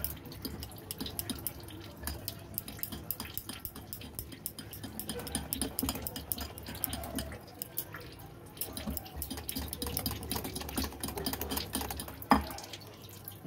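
Gram flour batter is whisked with water in a bowl for dhokla, a continuous fast patter of wet clicking and sloshing strokes held at a close, even level throughout.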